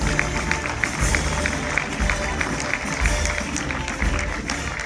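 Audience clapping at a felicitation ceremony for the junior Indian cricket team, a dense, sustained wash of many hands with a steady rhythmic patter throughout, fairly loud and continuous.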